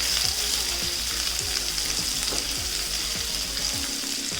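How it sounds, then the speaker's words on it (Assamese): Chopped onions added to hot oil with cumin seeds fry in a pan, giving a steady close sizzle with crackling and repeated soft stirring scrapes throughout. "এতিয়া ইয়াত দিছোঁ এই পিঁয়াজখিনি।"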